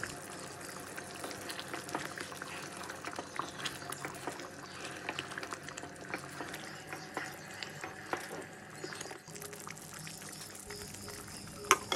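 Egg curry with boiled eggs and fried capsicum simmering in a pan, giving a soft, steady bubbling and sizzle that stays faint and even throughout.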